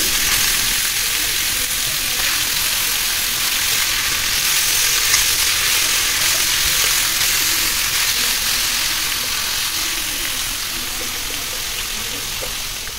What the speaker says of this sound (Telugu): ఇప్పుడు ప్రస్తుతం వంకాయలు వేసేసుకున్నాము.